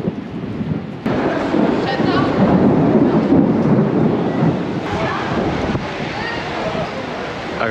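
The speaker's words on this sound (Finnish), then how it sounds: "Aika tulee vähän vettä." A thunderstorm rumbles outdoors on a trip in Greece, with a steady roar of rain and wind buffeting the microphone, loud and continuous after a sudden onset about a second in.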